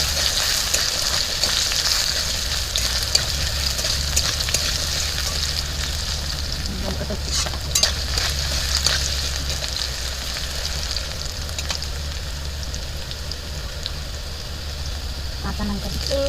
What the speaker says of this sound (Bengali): কুচি কুচি করে কেটে রাখা আলুগুলো তেলে ভালোভাবে ভেজে নেবে।